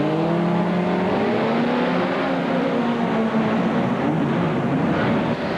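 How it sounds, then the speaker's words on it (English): Race vehicles launch off the start line at a 1994 Mickey Thompson stadium race in the Seattle Kingdome, a dense, loud roar of revving engines rising together, steady throughout with no talk. "Right off the start, Millen fires away"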